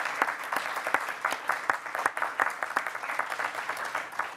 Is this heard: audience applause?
yes